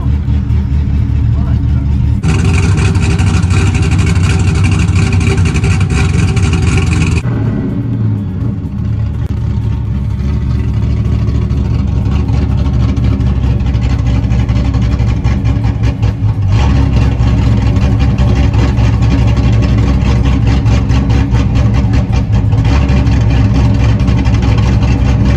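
A V8 burnout car idles and revs with a loud, deep, steady rumble that swells sharply at several points, close up throughout.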